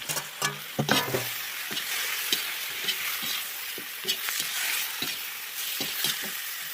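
Pork sizzles loudly in a hot pan over an open fire for bograch while a utensil scrapes and stirs it in irregular strokes, the frying hiss continuous throughout.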